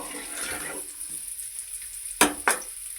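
Kakarakaya (bitter gourd) slices fry in a pan, a soft close sizzle that fades, then two quick sharp clatters of stirring.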